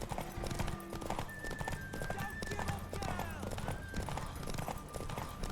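A horse gallops hard in The Witcher 3, its hooves pounding in a steady, continuous rhythm beneath layered game music and ambient effects, loud and close throughout.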